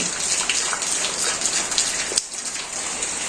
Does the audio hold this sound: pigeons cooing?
no